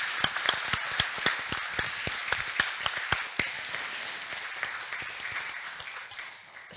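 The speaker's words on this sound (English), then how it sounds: "So I think we'll round of applause for Nuala." Audience round of applause at a literary event in Sligo, distinct individual claps from a modest crowd, close and crisp, tapering off near the end.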